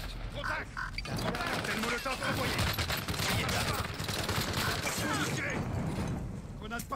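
Rapid video game gunfire in a multiplayer battle on PS5, dense clattering bursts of shots and mechanical clicks running nearly continuously, fairly quiet in the mix.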